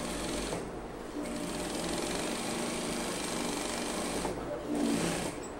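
Close by, a sewing machine runs a seam down a pair of fitted trouser legs, a steady mechanical hum with a rapid needle patter that goes on for nearly six seconds and pauses briefly twice.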